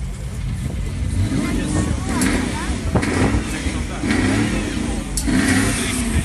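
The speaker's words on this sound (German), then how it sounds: "Der Sound kommt von einem Volvo direkt mit BMW M5 Motor, mit Kompressor, mit Turbo." A Volvo fitted with a supercharged and turbocharged BMW M5 engine revs loudly at a tuning car meet, its engine roaring up and down amid crowd noise and talking.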